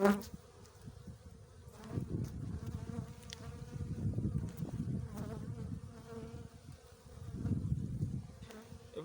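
A dense, continuous buzz of many honey bees at a hive up close, rising and falling in intensity, with occasional light knocks.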